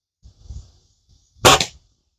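A Norica Titan .177 air rifle fires a single Crosman pellet with one sharp, close crack that decays quickly, preceded by faint low rustling.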